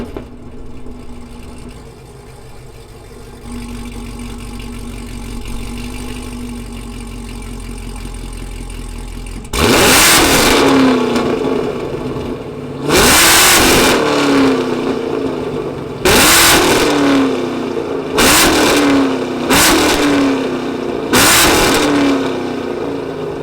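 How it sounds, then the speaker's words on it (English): A 2017 Chevrolet Camaro SS 1LE V8 settles at a low idle, then barks through a series of sharp, loud revs, five distinct blips rising and falling close by, each dropping back to a burbling idle. "Let's go ahead and fire up this V8 and see what it sounds like."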